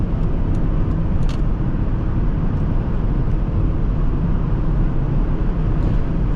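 Steady broadband road and engine rumble from inside a 2001 Volvo V70 XC 2.4T wagon cruising smoothly, a continuous low drone with faint tire hiss and no speech.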